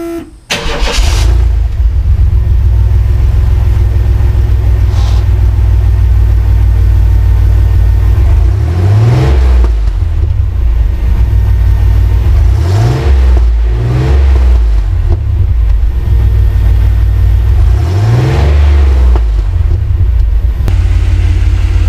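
Chevrolet S10 Blazer engine with a new muffler, starting up and then idling in a deep steady rumble, revving several times in rising and falling swells, close and loud.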